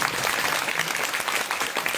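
Audience applause at a Bhagwat katha religious gathering in Noida: steady, dense clapping from a large crowd, moderately loud and continuous throughout.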